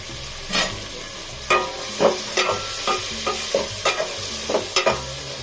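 Capsicum fries in a pan for foxtail millet bisibele bath, a soft background sizzle broken by repeated close scraping clatters of a spoon stirring at an uneven rhythm, with no talk.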